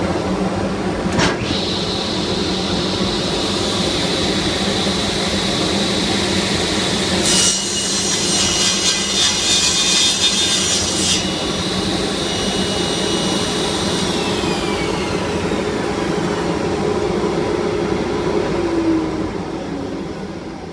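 An Oneida V3000 cyclone dust collector roars steadily throughout, with a few seconds of a table saw ripping through MDF over the top before the cut ends and the collector keeps howling alone.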